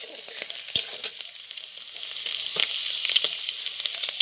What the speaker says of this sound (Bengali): টাকোয়াগুলো ভাজি নিন ভালো করে